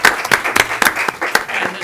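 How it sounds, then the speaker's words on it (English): Applause at a city council meeting, dense clapping from a room full of people, close and fairly loud throughout the short burst. "Another big round of applause,"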